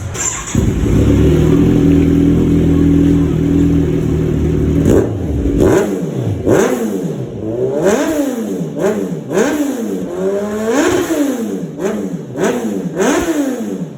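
Kawasaki Z1000 motorcycle fitted with an R11 dual exhaust: a steady loud idle, then a rapid series of sharp throttle blips, each revving up and falling back in quick succession, up close with no talking.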